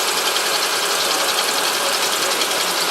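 A car engine idles steadily with faint belt noise from pulleys that need cleaning, a constant dense rushing drone with no clear rhythm, close and fairly loud with no voices.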